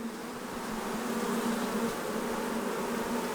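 A dense, steady hum of many honey bees buzzing together inside a hive, close and continuous, with a low droning tone and no voices.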